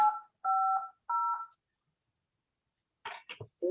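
Touch-tone DTMF digits keyed to connect an AllStar radio node to a repeater: three steady two-tone beeps in even succession, then a pause before brief muffled coughs or throat-clearing sounds near the end.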